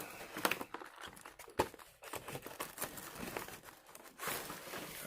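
New art supplies being unpacked, with crinkly packaging crackling and tearing in short irregular bursts at close range, sharp rustles spaced across a quiet room, and no talking.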